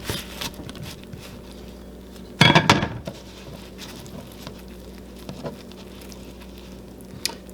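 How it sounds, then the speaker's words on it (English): A knife cuts into a cheeseburger cooked on a cast iron skillet, making one short, sharp scrape and clatter of metal against iron. Quiet kitchen background surrounds it. "let's cut open one of these burgers and see what we got"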